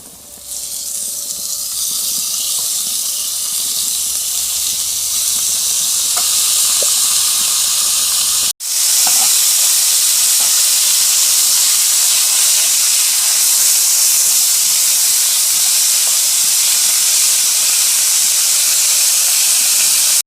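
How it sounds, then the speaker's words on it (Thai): Pork stir-frying in a hot pan for a kimchi pork dish, a loud, constant close hiss of sizzling that drops out for an instant midway and then resumes just as strong until the end. "ใส่หมูลงไปผัดเลยนะครับ"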